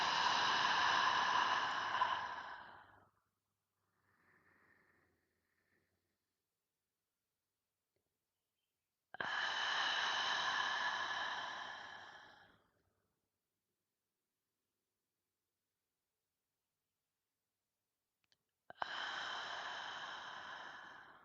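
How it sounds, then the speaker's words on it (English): Three deep, slow breaths at a calm meditation close, each a long broadband exhale of about three seconds, spaced well apart with near-silence between, close and fairly loud. "let us take 3 deep breaths to close the circle"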